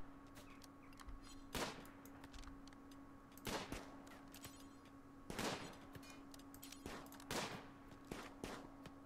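Gunshots in the video game RimWorld: several sharp, broadband shots spaced a second or two apart, moderately loud over a steady low hum and faint clicking background.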